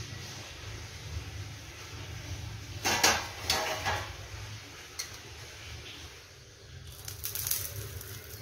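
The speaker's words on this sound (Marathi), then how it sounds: "झाकण काढून बघते।" A lid comes off a cooking pan on the stove, giving a couple of brief metallic clanks and rattles over a low background hum, with quiet stretches between.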